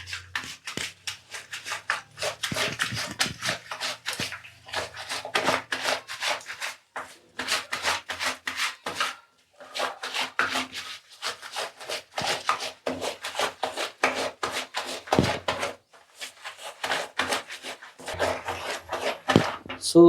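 Cloth rubbed and scrubbed by hand with a Tide detergent soap bar and water, a loud rhythmic series of rough scrubbing strokes in bursts with short pauses, close by, with a voice talking over parts of it.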